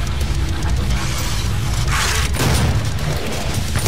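A shotgun fired in the video game Doom booms out in heavy, rough blasts, with one sharp burst standing out near the middle over a constant rumble of in-game noise.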